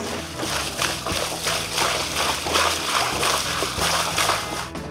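Water drains and splashes steadily from an emptied water heater at a cottage in March, a continuous loud gushing and sloshing with low rumbling underneath, no voices.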